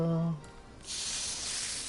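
Cooking sizzle in the Final Fantasy 14 video game, a steady bright hissing crackle that rises after a short tonal chime and holds to the end, alone without talk.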